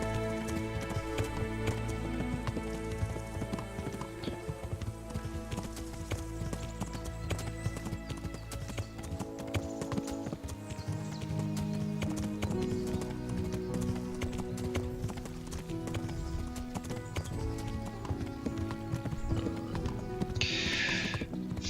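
Horse hooves gallop in a steady, rhythmic clip-clop during a ride in the video game Kingdom Come Deliverance, carried over continuous background music.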